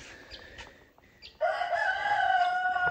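A rooster gives a few scattered clucks over background noise, then breaks into a loud, sustained crow that carries to the end.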